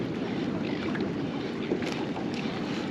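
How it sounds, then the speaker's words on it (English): Steady wind buffets the microphone aboard a fishing boat on the water, a constant loud rushing roar with slight gusting swells and no voices. "although this wind won't be fun"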